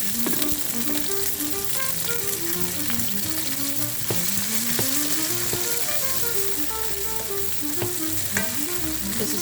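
Bora beans fry in a hot pan for chunks fried rice, giving a steady close sizzle with stirring clatter throughout and a musical background underneath.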